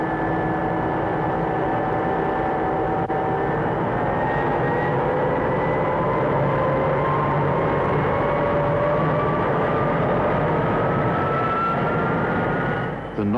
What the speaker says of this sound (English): The noise of a jet engine has become an established part of our life.